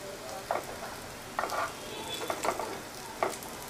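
Coriander vadi pieces shallow fry in a pan with a soft, low sizzle, broken by a few brief scraping or turning sounds.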